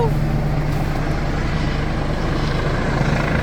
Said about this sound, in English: Helicopter. Helicopter, guys.